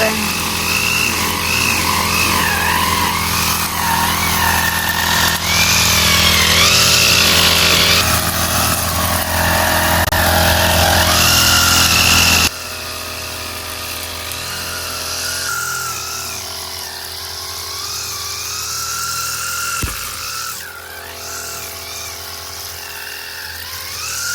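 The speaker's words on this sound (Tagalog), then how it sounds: "ngayon ay mag-grass cutter" A grass cutter runs steadily while cutting grass beside a fish pond, its loud, continuous engine whine shifting in pitch and dropping somewhat quieter partway through.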